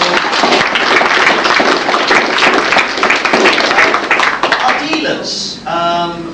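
Audience applause at a convention closing ceremony, a dense, steady wash of clapping filling most of the moment before it thins out near the end, with voices heard in the room.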